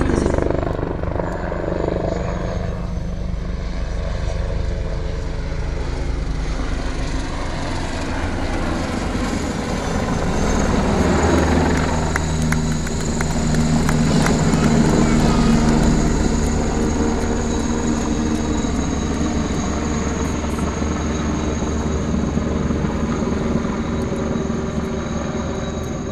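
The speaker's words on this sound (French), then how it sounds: "c'est un hélicoptère d'attaque et de protection" A Tigre military attack helicopter hovers near an aerodrome with a loud, steady rotor and turbine roar that swells slightly midway, while someone comments over the noise.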